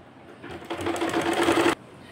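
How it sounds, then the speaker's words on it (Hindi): A sewing machine runs a single stitching pass along a salwar hem, a steady rapid mechanical whirr lasting about a second, close by with no talk. "नीचे वाले को एक्स्ट्रा रखते हुए मैं यहाँ पे एक सिलाई लगा दूंगी"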